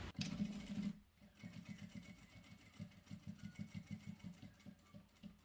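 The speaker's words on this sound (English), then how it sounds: "All I'll do is stitch straight across." A sewing machine stitches straight across small pockets of upcycled fabric swatches with light grey thread, a faint, quick rhythmic whir of needle strokes after a short louder burst at the start.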